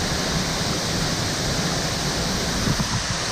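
A waterfall in Sri Lanka roars as a dense, steady rush of falling water, loud and close, with no voices.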